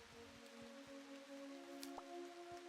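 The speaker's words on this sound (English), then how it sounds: "And now we're having to walk around in the rain" Rain falls steadily in a farming and cooking video game, a soft, continuous patter with a few faint drips and light clicks, beneath a low sustained musical drone with no talking.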